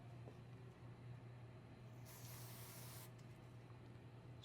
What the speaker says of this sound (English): Spray that switch, see what happens.